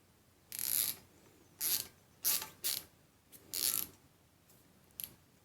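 A ratchet wrench tightens the supplied bolts on an IIIPRO floating brake rotor being fitted to a Sur Ron Light Bee electric dirt bike, heard close as several short clicking bursts separated by pauses.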